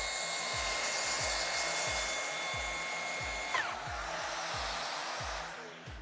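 A Milwaukee plunge saw trims a splinter guard strip above a sacrificial timber piece. It gives a steady loud motor whine with a rhythmic cutting pulse, then pitches down as the cut finishes and the blade slows. No voices.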